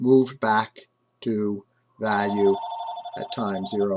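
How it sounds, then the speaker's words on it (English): A telephone rings in the background of a math lecture, a steady repeated ringing tone under a lecturer's close, clear speech. "Sorry about that phone in the background."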